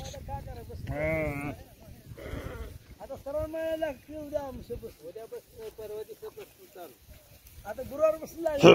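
Sheep bleat repeatedly out in the rain, a herd sounding close and loud in wavering cries one after another, with someone talking between the calls.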